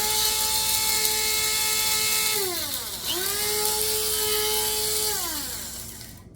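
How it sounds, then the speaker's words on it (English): An electric spice grinder whirs steadily while grinding toasted spices, its motor pitch dipping and recovering partway through before winding down near the end, loud and close with no talking. "put them in the spice grinder"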